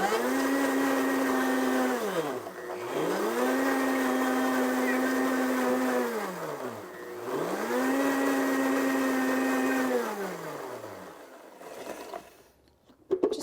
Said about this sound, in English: And then I'm going to pulse this up so that the ginger and the garlic blend.